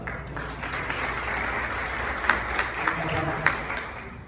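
Applause from the audience at a human rights forum on vulnerable groups, heard as a soft, steady patter of clapping that stays fairly even throughout, with a few sharper individual claps standing out.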